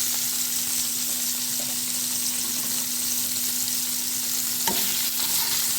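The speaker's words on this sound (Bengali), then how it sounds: "ভালো করে একটু ফ্রাই করে নেব।" Chicken balls with turmeric and chili flakes fry in a pan, giving a steady, loud sizzle throughout with a faint stir or clink near the end.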